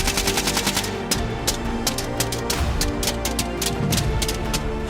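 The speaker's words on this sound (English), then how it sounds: "Do you hear the sound of gunshots echoing through the forest?" Gunfire echoes through woodland during a wild boar hunt, a steady run of sharp, closely spaced shots, loud and near, repeating across the whole stretch with no talk.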